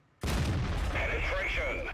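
A sharp tank-shell impact in World of Tanks, a Centurion Mk. 1 at tier 10: a loud sudden boom that rings out into a lingering metallic tail, with no talk over it.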